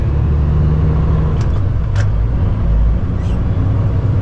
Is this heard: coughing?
no